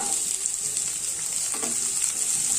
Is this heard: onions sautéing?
yes